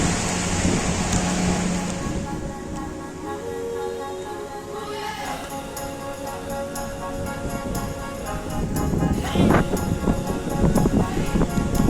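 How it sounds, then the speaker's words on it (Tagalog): Heavy rain pours in a dense, continuous hiss with low rumbling underneath, steady and loud throughout, with a few louder splashing bursts near the end. "Ang lakas naman ng ulan."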